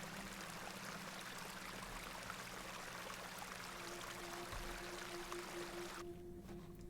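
A stream of icy water in the game Hob's Barrow, a steady soft rush of flowing water with a low hum beneath, continuous and fairly quiet before thinning out near the end.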